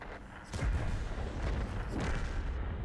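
Tank cannon fire in World of Tanks, the SMV CC-67, makes a deep rumbling boom followed by a rolling heavy tail, with a second dull thump after it, loud and close, and no speech.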